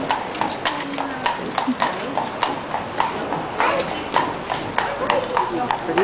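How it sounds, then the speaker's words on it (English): Horse hooves pulling a buggy along a street in Sacramento, with a steady, even clip-clop of hoofbeats passing fairly close while a person talks over it. "Horse and buggy."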